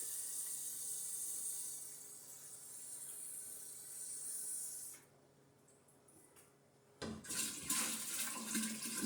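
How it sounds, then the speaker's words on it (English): Water splashes and trickles into a 3-gallon jug of homemade apple wine for several seconds, pauses, then a louder gush of pouring resumes. "I'm going to add a little bit of water to this"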